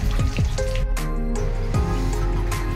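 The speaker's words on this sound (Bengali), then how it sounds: "এবার দিয়ে দিলাম দুটো তেজপাতা আর দুটো শুকনো লঙ্কা।" Bay leaves and dried red chillies crackle and sizzle steadily in hot oil with whole spices, a close, continuous frying hiss punctuated by sharp pops, with no voices.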